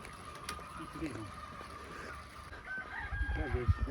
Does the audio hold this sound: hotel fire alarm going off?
no